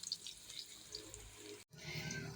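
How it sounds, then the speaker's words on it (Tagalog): Canned Century Tuna and its liquid pour out of the tin into a frying pan, a soft continuous splashing and trickling for about two seconds, broken by a brief pause, then resuming. "Isang lata na century tuna, buhos natin sa ating kawali, simutin yarn."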